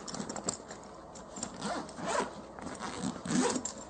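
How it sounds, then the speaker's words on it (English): A Velcro cover wrapped around the handles of a range bag is pulled open in a few short, close ripping tears with brief pauses between them. "it has this cover to combine the handles with this Velcro. Opening that up exposes the main compartment of the bag."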